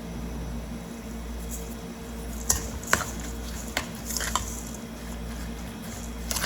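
Shrimp cake mixture of shrimp, eggs, panko, salt and pepper being mixed with a spoon in a bowl: soft wet squishing with a few sharper clicks of the spoon against the bowl, close and steady.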